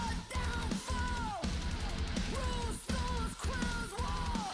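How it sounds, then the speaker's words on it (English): A heavy headbanger song from League of Legends with harsh screamed vocals over a pounding, driving backing, with the voice rising and falling in repeated strained phrases. "Actual scream music."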